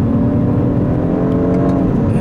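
A 2016 BMW 328i engine revs hard and steadily to 6,500 rpm for a couple of seconds, a loud, continuous growling roar close by with no talking.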